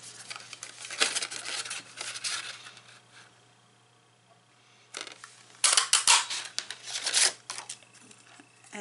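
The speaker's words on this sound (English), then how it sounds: "And I'm just going to punch a couple of those." A Stampin' Up scallop paper punch cuts yellow paper, giving sharp crunching clicks and rustles in two bursts separated by a quiet pause, with paper handling noise throughout.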